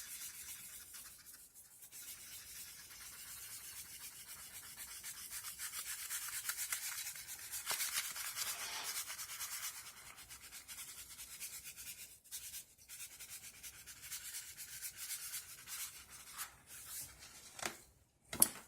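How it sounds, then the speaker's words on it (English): Barbecue dry rub is sprinkled and scraped lightly over ribs, a soft continuous grainy rustling that stays close and fairly quiet, with a few sharper taps near the end and no talk. "I want to take a little bit of the barbecue dry rub, and I'm just going to sprinkle over on top of it lightly."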